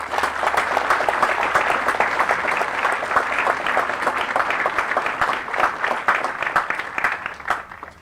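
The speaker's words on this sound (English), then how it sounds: "please join me in giving our awardees a round of applause" Audience at a military regiment graduation ceremony applauds steadily and loudly for awardees, a dense, sustained clapping that fades slightly toward the end.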